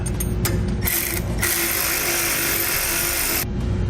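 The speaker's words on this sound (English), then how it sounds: "Now we'll tighten up our U-bolts a little bit, just enough to make sure we draw our lower bracket close to our leaf spring." A ratchet tightens U-bolts on the leaf spring bracket of a 2014 Ford F-350 during air helper spring installation, sounding as a loud, close, continuous rapid clicking with a steady hum underneath.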